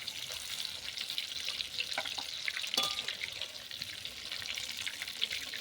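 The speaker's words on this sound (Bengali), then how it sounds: "এইভাবে আমি মাছগুলো ভেজে নেব লাল লাল করে।" Prawns fry in hot oil with a soft, steady sizzle and crackle, punctuated by a few brief clinks and scrapes from handling the pan.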